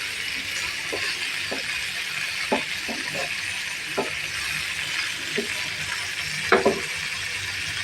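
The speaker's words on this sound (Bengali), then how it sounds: "মাছটা আমার ভাজা হয়ে গেছে" Tilapia fish frying in oil in a cooking pan produces a steady, even sizzle, broken by a few light metallic clinks from a utensil.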